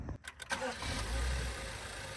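A BMW N55 engine in a 535i cranks and settles into a steady idle with Liqui Moly oil flush added, a low close-up hum after the short starting burst.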